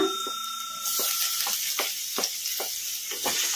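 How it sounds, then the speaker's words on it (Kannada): Finely chopped garlic frying in hot oil in a pan over a medium flame, a steady close sizzle broken by several light scrapes of a spatula stirring it. "ಬೆಳ್ಳುಳ್ಳಿ ಹಸಿ ವಾಸನೆ ಹೋಗೋವರೆಗೂ ಫ್ರೈ ಮಾಡ್ಕೊಂಡ್ಬಿಡೋಣ ಮೀಡಿಯಮ್ ಫ್ಲೇಮಲ್ಲಿ"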